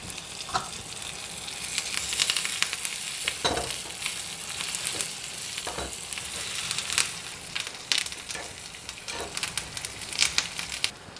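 Dried red chillies and curry leaves crackle and spit in hot oil for a cashew nut kulambu, a lively, uneven sizzle with bursts of popping and a few soft stirring knocks, close and with no talk.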